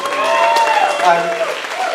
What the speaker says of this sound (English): you guys should give yourselves a big round of applause for coming out and supporting this charity cause tonight